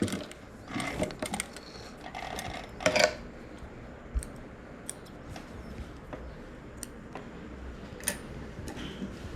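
A sewing machine stitches a patchwork rug, with faint, quiet ticking and short mechanical bursts and clicks, a brief louder rattle near the start, and no talking.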